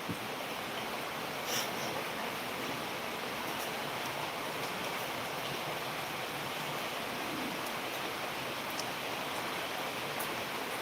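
Heavy rain pours steadily outdoors in Palakkad, a dense, even hiss that stays constant throughout with no talk, like a broad wash of falling water close by.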